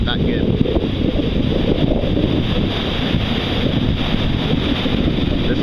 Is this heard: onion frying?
no